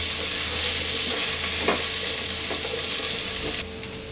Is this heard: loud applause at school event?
no